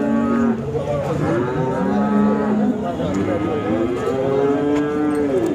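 An HF cow at a cattle market in Sangola gives several long, loud, drawn-out moos close by, one after another, with faint market noise behind.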